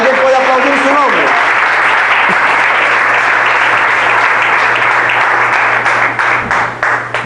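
A church congregation breaks into loud, sustained applause during a sermon, with a low hum running beneath the clapping. A voice sounds briefly at the start, and the clapping thins out toward the end.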